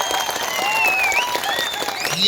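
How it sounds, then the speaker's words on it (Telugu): Loud, dense crowd applause from party workers at a chief minister's rally in Kodangal claps continuously throughout, with scattered whistles rising above the clapping. "ఇవాళ మీరందరు పెద్ద ఎత్తున చప్పట్లు కొట్టండి"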